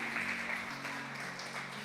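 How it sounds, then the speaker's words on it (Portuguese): Congregation applauding during a church service, a steady wash of clapping at moderate level with faint tonal hum from instruments or room sound underneath, no clear voice on top. "E dê um aplauso ao Senhor se você recebe."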